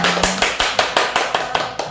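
Sharp, evenly spaced claps from a lecture audience ring out in a quick steady rhythm, about nine distinct hits close and fairly loud, with no talking over them.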